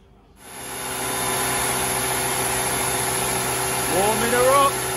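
A Honda Civic Type R engine on a dyno catches after a moment and settles into a steady warming-up idle with a thin high whine. A brief voice-like tone rises near the end.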